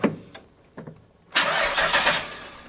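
V8 engine in a widebody Toyota Celica cranking a few times, then catching and settling into a loud, close, rough idle.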